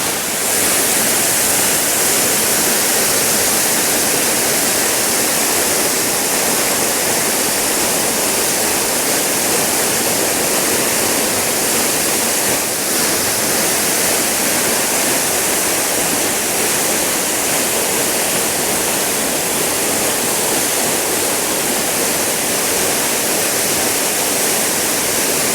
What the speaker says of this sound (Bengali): জলের কি স্রোত এখানে।